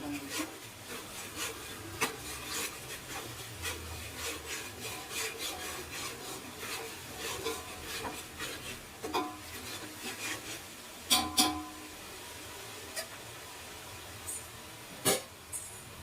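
Ginger frying in a pan gives a soft, continuous hiss, broken by rasping scrapes and a few louder clatters as it is stirred.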